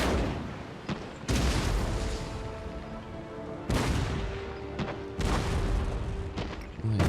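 Warship cannon fire in Empire Total War naval combat, several loud booming shots at irregular intervals, each ringing out over rumbling battle ambience.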